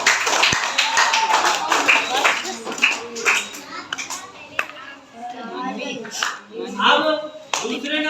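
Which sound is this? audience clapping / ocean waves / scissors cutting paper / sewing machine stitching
audience clapping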